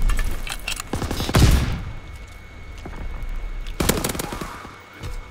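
SMG fire in the World War II shooter Call of Duty WW2, with rapid, loud automatic bursts, a heavy impact around the middle and another close volley later, set against background battle noise.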